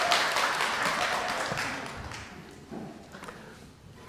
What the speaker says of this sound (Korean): 큰 박수와 함성을 올려주시면 감사하겠습니다